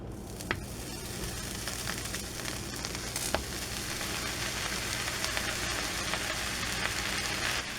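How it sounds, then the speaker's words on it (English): A pan frying a grilled cheese sandwich sizzles steadily and fairly close, a dense crackling hiss with occasional sharper pops and the odd scrape. "You'll know the pan's at the right temperature when you hear that sizzle"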